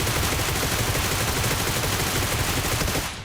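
Dense, continuous automatic gunfire in the mobile battle-royale game PUBG Mobile, loud rapid bursts with no break until a brief fade at the end, no talk.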